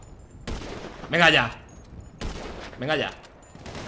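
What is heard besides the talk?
gunfire in video game GTA V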